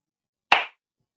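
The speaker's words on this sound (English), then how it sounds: "You can even clap your hands." A single sharp hand clap rings out once, loud and close, in an otherwise silent room before quickly fading.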